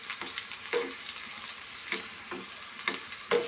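Broken Byadgi chili hits hot oil for a tempering in radish sambar, a close, steady sizzle and fry with a few sharp stirring scrapes and pops.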